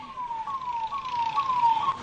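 A wailing ambulance siren sweeps steadily in pitch, loud and continuous, with traffic rumble underneath, in Rajasthan, India.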